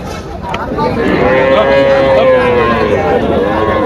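A dairy cow at the Tepakhola cattle market in Faridpur lets out a long, loud, drawn-out moo over a steady murmur of market crowd noise.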